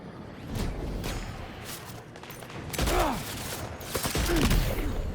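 Tranquilizer dart guns fire in the video game Death Stranding 2, a burst of rapid, loud, close shots with whooshing projectile sweeps among game effects.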